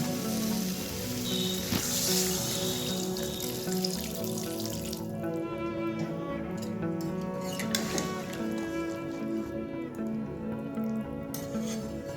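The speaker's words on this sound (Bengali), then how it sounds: "এবার এর মধ্যে পরিমাণ মতন জলটা আমি দিয়ে দেবো" Water pours into a pan of frying flat bean and potato curry, a steady hiss and splash of liquid hitting the hot pan that runs for several seconds.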